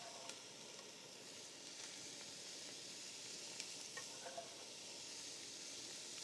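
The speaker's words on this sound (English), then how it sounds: "give it a little stir to make sure that all the vegetables are coated with the oil" Trinity vegetables stirred in hot oil in a pot for Cajun red beans and rice give a steady, quiet sizzle, with a few faint clicks of the spoon scattered through it.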